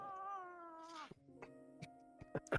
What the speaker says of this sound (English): That cat is not happy.